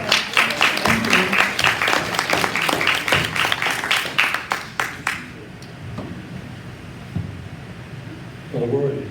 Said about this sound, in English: Let's give another round of applause for our musician for today,